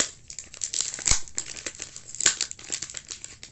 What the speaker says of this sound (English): The person that packaged this really put a lot of tape in here.